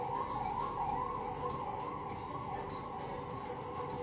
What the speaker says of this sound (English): I get scared when I hear ambulance sounds.